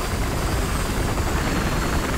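Helicopter in the shooter game Battlefield Hardline, its rotor and engine making a loud, steady, close whirring drone that runs without a break and has no voices over it.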